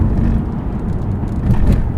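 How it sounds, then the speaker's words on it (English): A Ford Mondeo 2.5T driving at low revs, its deep engine and road rumble carrying intermittent light rattles from the cabin, close and fairly loud. "Lower RPM, you can hear the rattles and that."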